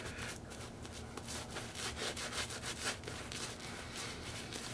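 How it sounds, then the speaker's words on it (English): A shaving brush scrubs lather over a face in quick, continuous back-and-forth strokes, a close, rhythmic bristly rasping with no talk. "Felt like a nice face scrub today"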